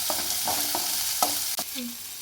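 Turkey berries (sundakkai) are stir-fried in a hot pan, giving a steady sizzle under repeated scraping stirs of the spatula, close and fairly loud, with no talk.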